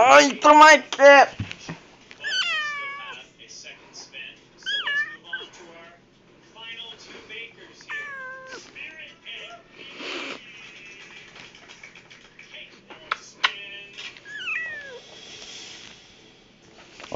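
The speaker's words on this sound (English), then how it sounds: "Say hi to my cat!" A pet cat meows repeatedly, close and clear, with varied drawn-out cries scattered across the stretch while a person talks at times.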